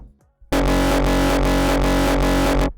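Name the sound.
synthesized saw kick drum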